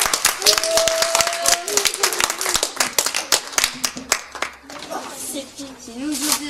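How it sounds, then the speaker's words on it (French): An audience at a children's storytelling workshop claps in a burst of quick, sharp, uneven hand claps, while a voice speaks and hums over the applause as it thins out. "Merci pour les applaudissements."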